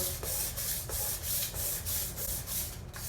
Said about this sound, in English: Just kind of sand away.